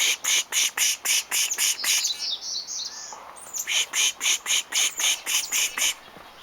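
Outdoor birds sing in a rapid, regular series of bright, repeated chirps. The first run stops and a second run follows after a brief pause, all close and clear with no voices.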